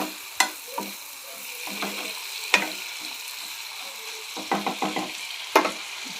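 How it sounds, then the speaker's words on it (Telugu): Potato pieces fry in oil in a pan over a low flame, a steady close sizzle broken by sharp scrapes and knocks of a spoon stirring. "ఇవి లో ఫ్లేమ్లో ఫ్రై అయ్యే వరకు వేపుకుందాం"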